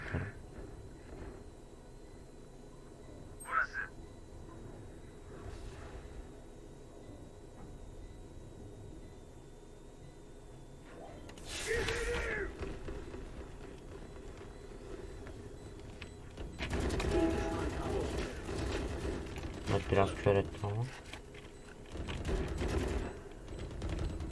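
Valorant gameplay brings a burst of an ultimate ability alongside scattered gunfire, with sharp shots and whooshing effects spread over a quiet background and louder clusters of firing in the middle and near the end.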